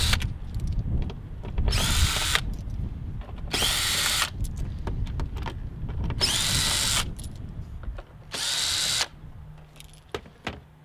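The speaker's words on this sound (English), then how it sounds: "take your drill again to get a T30 bit. And you're going to remove all of the inner ones." A power drill fitted with a T30 Torx bit spins in four separate bursts of about a second each, removing the inner headlight screws on a BMW F30 328i, with quieter handling noise between runs.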